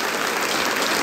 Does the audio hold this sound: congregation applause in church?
yes